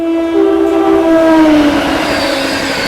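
A Madhupur Humsafar express train passing at speed through a level crossing, with a loud horn holding long tones that slide downward as it goes by, over continuous wheel and rail noise, with no voices.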